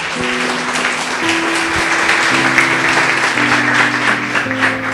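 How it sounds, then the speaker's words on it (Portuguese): Congregation at a church service clapping hands loudly and steadily for the full duration, a dense wash of applause with sustained musical tones underneath. "Louve a Deus com as suas palmas bem forte"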